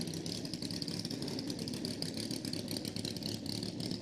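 A 1960s drag racing motorbike running on methanol, with a later non-original Puma bottom end, idles and revs steadily at close range, a continuous mid-pitched engine drone with rapid firing pulses and no talk.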